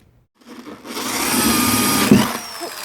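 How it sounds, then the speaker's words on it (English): A power drill starts up and whirs steadily into wood for a couple of seconds, with a brief grinding bump as it bites, then winds down, drilling a mounting hole for a Potter USA guillotine shear. "drill the second hole"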